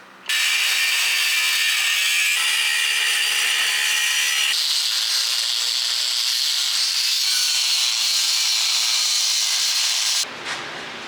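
A power tool grinds through welds on bent Toyota Tacoma bumper plates, giving a loud, continuous high-pitched cutting whine that holds steady for about ten seconds with slight pitch changes, then drops away abruptly near the end.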